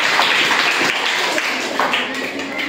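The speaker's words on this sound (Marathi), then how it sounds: "याच्यासाठी सगळ्यांनी टाळ्या वाजवायच्या." A room of secondary school students claps together during a quiz, a dense, even burst of applause filling the space.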